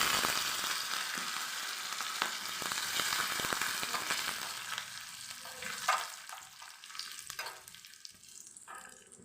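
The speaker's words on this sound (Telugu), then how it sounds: "పోపు అంతలా వేయించుకోలే" Mustard seeds, garlic, cumin, dried red chillies and curry leaves crackle and sizzle sharply in hot oil, dense popping at first, then thinning to scattered spits and a softer fizz. No voices.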